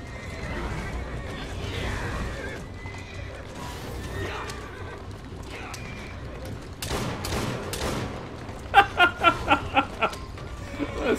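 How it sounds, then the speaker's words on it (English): A horse neighs loudly in Assassin's Creed Syndicate amid the clatter of a cart chase, followed by a burst of rapid gunfire shots, all fairly close and dense. "Kill the horse!"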